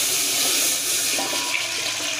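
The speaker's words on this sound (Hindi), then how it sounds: "अब हम इसके बीच में पानी डालेंगे।" Water poured into a large cooking pot in a kitchen, a steady, loud rushing stream with a bright splashing hiss that runs throughout without talk.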